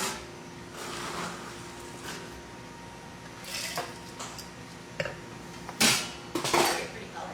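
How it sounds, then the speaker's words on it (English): Ice cubes clink and rattle into a highball glass of ginger ale cocktail, a few sharp clatters in a quiet kitchen with faint background rustle. "I'm going to add ice."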